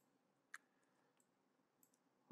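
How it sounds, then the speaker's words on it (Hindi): A computer mouse clicks on the prototype tab in Adobe XD, with two faint, sharp single clicks a couple of seconds apart in an otherwise quiet room. "इस पर मैं क्लिक करता हूँ"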